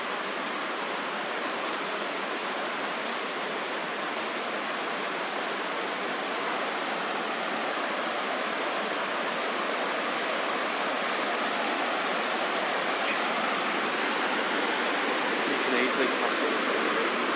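A river in New Zealand's Southern Alps rushes in a steady, dense broadband roar that holds unchanged throughout, with no talk and no break in the flow.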